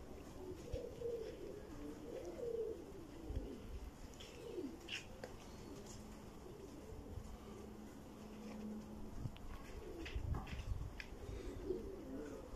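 Uzbek pigeons cooing in a coop, soft low throaty coos repeating through the clip amid faint background chirps.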